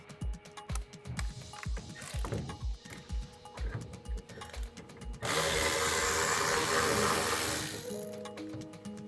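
A hand ratchet clicks in quick, regular bursts while Torx screws are backed out on a Cybertruck. Then a louder, steady whirring rasp takes over for several seconds before it stops, and no one speaks.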